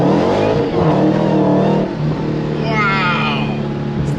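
An 800-horsepower car engine revs hard and accelerates, loud and close, with a steady roar whose pitch climbs and then settles into a sustained drone.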